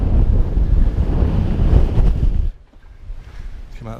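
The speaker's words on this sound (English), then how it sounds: "Come out of the wind a bit." Strong wind buffets a microphone on a Dartmoor hilltop, a loud continuous roar that drops abruptly after a few seconds to a quieter, gusty rumble.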